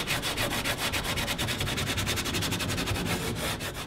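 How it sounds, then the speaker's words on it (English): Steady, rhythmic sanding strokes rub across an aramid composite canoe hull in a workshop, smoothing rough spots and sharp edges around a crack before repair. The sound is close and continuous, with no voices. "First off, he's going to sand the area that needs to be repaired."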